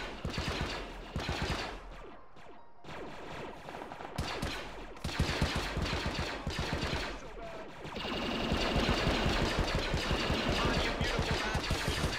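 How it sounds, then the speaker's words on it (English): Gunfire in the Star Wars-themed Arma 3 military game: dense bursts of automatic fire and overlapping shots, loud and sustained, with brief lulls and a steady engine-like rumble under heavier fire near the end. "The sound of this gun is so quiet."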